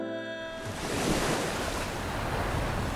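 Roaring ocean waves and surf, a loud, continuous broadband wash that swells in after a brief quiet start and rolls on steadily with wind-like noise.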